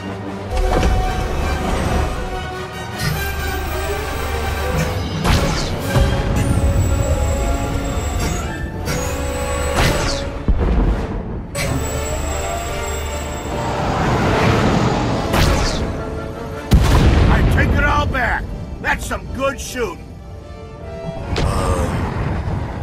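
Starship weapons firing in Star Wars: The Old Republic, loud sustained mechanical whine and rumble with repeated bright bursts and sweeping tones layered under game score, continuing throughout.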